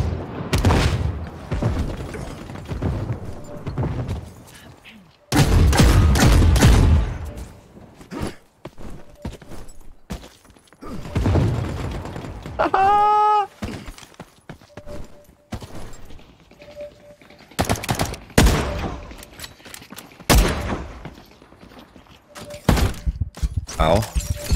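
Grenades explode during a squad firefight in the video game The Cycle: Frontier, with several sharp, loud bursts scattered between gunfire, footsteps and a player talking.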